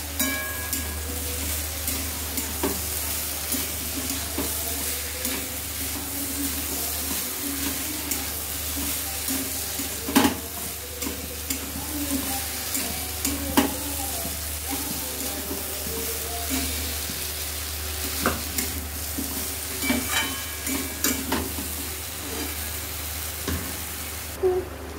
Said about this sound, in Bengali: কাবলি চানাগুলো দিয়ে দিলাম, একটু নাড়াচাড়া করে দিলাম।